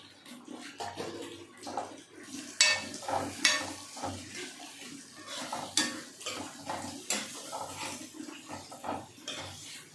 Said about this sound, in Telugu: ఇప్పుడు సన్నగా తరిగి పెట్టుకున్న టమాటాలు పోస్తున్నాను